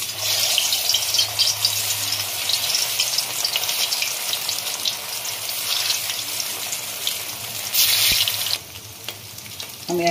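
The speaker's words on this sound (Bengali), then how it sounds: "এরপরে আমি এক এক করে ভেজে নেব।" Round vegetarian patties fry in white oil, giving a steady, dense sizzle that stays loud throughout, swells briefly near the end, then eases off.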